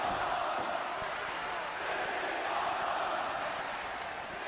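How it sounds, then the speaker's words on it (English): A wrestling crowd at a main event roars steadily throughout, a dense, continuous wash of cheering and noise with no breaks. "the crowd seems to be really enjoying the match already"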